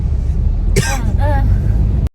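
A person nearby coughs or clears their throat in two short, harsh bursts over a background of road traffic, and the sound cuts off at the end.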